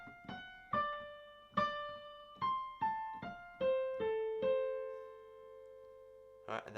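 Solo phrase from a song played on piano, about a dozen clear single notes stepping downward with ringing sustain, moderately quiet and alone before a brief final chord.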